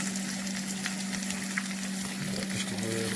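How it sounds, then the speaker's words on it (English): Flour-coated bluegill fish laid into a hot skillet sizzle and crackle loudly and steadily at close range, with a continuous frying hiss and a low hum underneath. "lay them in the skillet."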